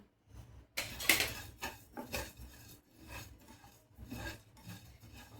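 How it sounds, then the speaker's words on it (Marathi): Cumin, black pepper and coriander dry-roasting in a pan over a low flame, heard as close, intermittent scraping and rasping strokes of stirring against the pan in uneven bursts. "मंद आचेवर जिरे, काळी मिरी आणि धने हे भाजून घेऊयात।"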